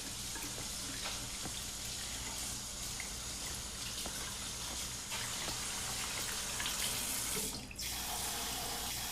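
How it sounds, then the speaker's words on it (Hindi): Water runs steadily from a tap into a sink, a continuous close splashing rush lasting throughout with a brief shift near the end, no voices over it. "ओह सॉरी, मैंने तुम पे पानी उड़ाया।"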